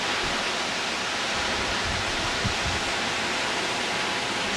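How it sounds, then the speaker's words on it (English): Bear Creek Falls, a waterfall near Ouray on the Million Dollar Highway, pours as a steady broadband roar. The rush stays constant and fairly loud, with no voices over it. "Bear Creek Falls."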